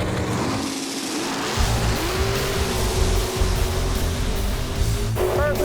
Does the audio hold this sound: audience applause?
no